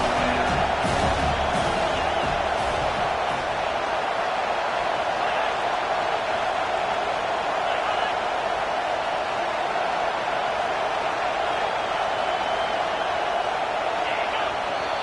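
A football stadium crowd roars in a dense, continuous wash of noise on fourth down, loud and sustained throughout, with a few sharp shouts early on.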